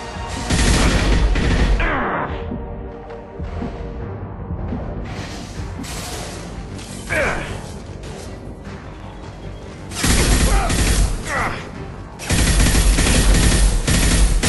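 Gunfire erupts in a Mass Effect 2 firefight, with loud bursts of rapid automatic fire and heavy impacts clustered at the start, middle and end, separated by quieter stretches of mechanical whirs and scattered shots.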